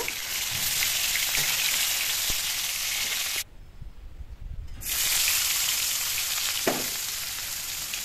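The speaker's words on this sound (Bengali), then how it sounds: "পেঁয়াজ কাঁচামরিচগুলো তেলে দিয়ে দিলাম" Onions and green chilies hit hot oil left from frying rohu fish, setting off a loud, close, steady sizzle that drops out briefly and then returns, with a few faint clicks of utensils.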